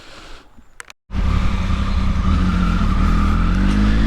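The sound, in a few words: electric car driving past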